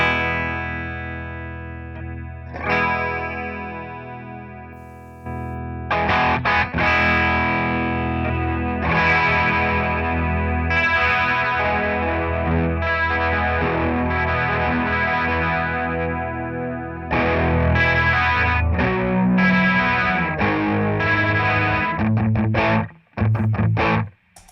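A 1978 Ibanez Iceman electric guitar through a 1976 Roland DC-50 digital chorus into a distorted amp plays sustained, shimmering chords and ringing notes. The tone is thick and loud, with brief pauses and a sudden stop near the end.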